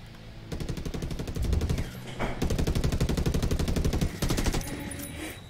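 Dense rapid-fire automatic gunfire rattles through a video game gunfight on Xbox One, two long sustained bursts separated by a brief pause, loud and close with no talking over it.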